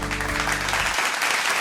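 Audience applause at the Mumbai grand finale of the Slurrp Great Indian Cookout cooking show, a dense, steady wash of clapping, with a low musical hum underneath that fades after the first second.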